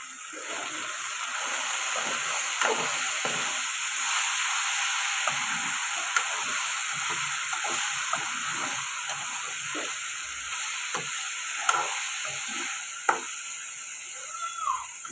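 Tomato and okra curry frying in a pan gives a steady, close sizzling hiss, with scattered crackles and soft stirring clicks throughout and no voices.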